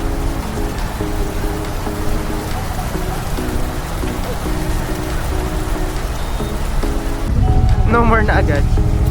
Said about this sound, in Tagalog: Naabutan tayo ng ulan.